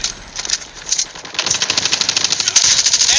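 A QXR submachine gun in Call of Duty Mobile fires rapid, loud bursts of gunfire, the shots running almost continuously with only brief gaps, while someone talks faintly underneath.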